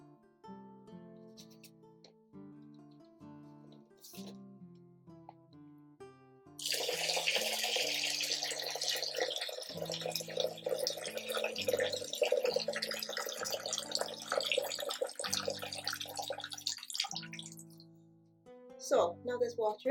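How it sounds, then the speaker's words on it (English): Warm water running from a tap into a bucket, a steady splashing stream that starts partway through and continues for about ten seconds, with soft musical tones playing before and after it. "I will wet them in a bucket with some warm water"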